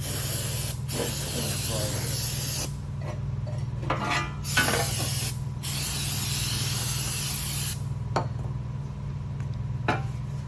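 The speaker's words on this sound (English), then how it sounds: "carb cleaner." Carb cleaner from an aerosol can is sprayed onto rusty car parts in several hissing bursts of varying length, loud and close, with brief pauses and faint handling clatter between them.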